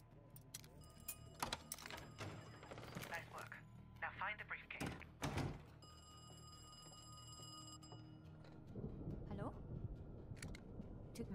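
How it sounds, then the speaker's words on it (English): A telephone rings in an apartment during a stealth mission in Call of Duty Black Ops Cold War, bright repeated bell-like tones against game sounds and background voices. "I'm about to phone Krause's apartment."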